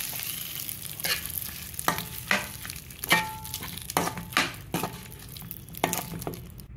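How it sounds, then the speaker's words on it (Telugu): A hot tempering sizzles as it is stirred into ridge gourd chutney, with repeated spoon scrapes and clinks in an uneven rhythm over a low, steady frying hiss. "ఇలా తిరగమాత వేసేసుకొని కలిపేసుకోవాలండి."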